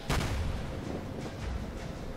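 A Kawachi battleship in World of Warships fires a salvo: a heavy, close booming blast at the start rolls into a long rumbling tail with a faint second thump, and no voices.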